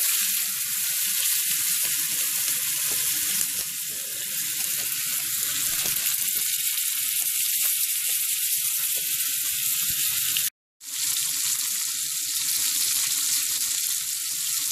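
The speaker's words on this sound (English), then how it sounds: "I have butter in my pan. I decided not to grill after all, so I'm just going to brown them up a bit." Potatoes and steak browning in butter in a pan, a continuous close sizzle with faint crackles that cuts out for a moment and then carries on.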